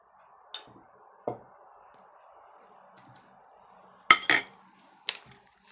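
A tablespoon heaps Georgian adjika into a bowl of marinade for Georgian shashlik grilled over grapevine wood, giving a few sharp clinks of metal against the bowl, loudest near the end and heard alone.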